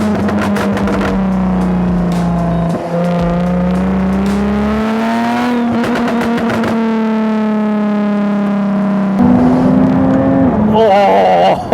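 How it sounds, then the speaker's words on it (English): A Jaguar F-Type V6S with a supercharged V6 engine revs hard, rising and falling in pitch through long sustained pulls, loud and close from inside the cabin, with a few brief crackles between. "the intoxicating sound of the supercharged V6"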